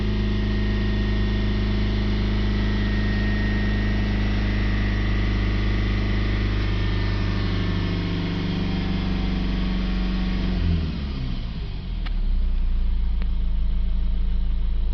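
A warmed-up Honda CR-V 2.2 diesel idles steadily with a low, droning hum and even knock, holding constant before the pitch briefly dips and shifts near the end, with no talk over it.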